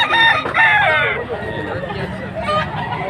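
A Kelso gamefowl rooster crows loudly and close at a livestock auction market in Padre Garcia, Batangas, amid crowd babble and people talking.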